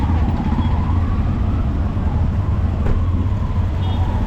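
Heavy, congested street traffic in Afghanistan, with tuk-tuks among the vehicles: a steady, loud rumble of engines fills the whole stretch, with no clear individual pass-bys standing out.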